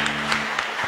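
Church congregation clapping during a worship service, a steady, dense round of applause filling the whole second at moderate level, with a low sustained tone underneath.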